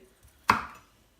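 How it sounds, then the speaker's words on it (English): A single sharp knife chop lands on a cutting board while baby sweet corn, courgette and broccoli are cut up, one close crisp thud in otherwise quiet surroundings. "Just going to chop these up, chop these in half and half again."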